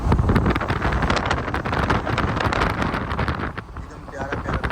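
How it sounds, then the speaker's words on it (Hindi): Cold wind rushing past outside a moving vehicle on a long hill road drive, a steady loud broadband buffeting with constant roar throughout and a slight dip near the end, with no voices. "बाहर भी ठंडा हवा चल रहा है।"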